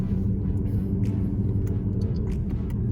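A 2018 Mercedes C43 AMG rumbles from inside the cabin as it downshifts with paddle shifters, a low continuous engine drone with faint blips and clicks over it.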